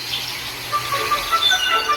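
Spring birdsong outdoors, with several short chirps and tweets scattered over a soft background hiss, moderately faint and slightly distant, with no voices.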